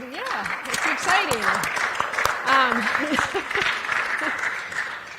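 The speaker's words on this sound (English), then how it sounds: "Yeah, you can clap." A church youth confirmation group applauds the announcement of a new pastor, clapping spread through the room while people talk and call out loudly over it.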